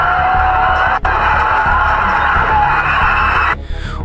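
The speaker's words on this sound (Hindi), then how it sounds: "उसी समय धीरे धीरे सभी घरों से चीखने चिल्लाने की आवाजें आने लगी" Villagers scream and shout from houses in a horror story setting, with loud, overlapping yells and cries that continue, then a sudden cut near the end.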